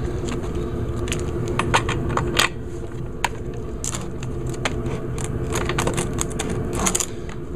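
A spark plug being unscrewed and pulled from an Echo PB-251 leaf blower engine, heard as close metallic clinks, ratchet clicks and tool rattles scattered over a steady background hum.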